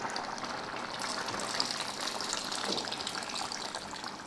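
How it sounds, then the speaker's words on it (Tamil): Dissolved tamarind water pouring into a pot of sambar with eggplant and drumstick, a steady close liquid gush that continues evenly throughout without talk. "இப்போ கொஞ்சமாக புளி கரைச்சி ஊற்றிடலாம்."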